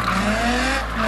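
A car drifting on a street in Mexico, its tires squealing in a sustained, loud, gritty screech over a steady engine roar for about a second.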